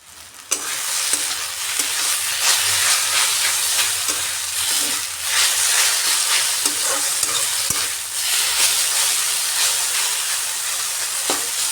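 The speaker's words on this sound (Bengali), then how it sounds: "এইভাবে একটু ছড়িয়ে দিয়ে ঝরঝরে করে নিচ্ছি শাকটা" Sweet potato leaf greens fry in a pan while being stirred and spread out, giving a loud, continuous sizzle and hiss broken by scraping stir strokes, close up with no talk.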